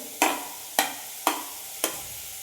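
Onions and tomatoes being sautéed in a pan for chicken curry, with four evenly spaced scraping stirs over a faint sizzle.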